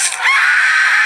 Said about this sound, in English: got the screaming girl